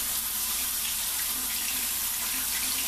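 Tap water runs steadily in a sink while a razor is rinsed under it, a constant close hiss with no talking.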